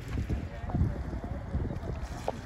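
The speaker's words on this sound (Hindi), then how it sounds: "नाव से जा रहे हैं।" A boat carries villagers across floodwater where the road has been cut off, its low water and engine-like rumble steady and fairly close, with wind buffeting the microphone and faint voices in the background.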